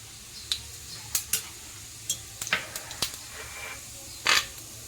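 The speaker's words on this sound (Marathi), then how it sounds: "त्याच्यानंतर हे जिरे टाकायचे आहे चांगले करून द्यायचे" Cumin seeds stirred in a spoonful of hot oil in a pan for a spicy fried green chili dish, with faint sizzling under a series of sharp scraping and tapping stir strokes, moderately close and without talk.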